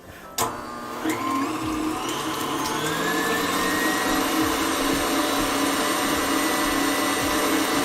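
A KitchenAid stand mixer with the whisk attachment spins up to whip cupcake frosting, a loud, steady motor whir with a rising whine after a clunk at the start.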